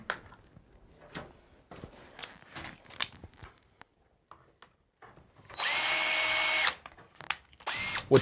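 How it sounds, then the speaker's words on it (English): A power drill boring a hole in a wiring track for crown molding, heard as a loud, steady whir for about a second after scattered handling taps and clicks, then a shorter burst of drilling near the end. "we're going to drill a hole in the track to fish a wire up from the existing outlet"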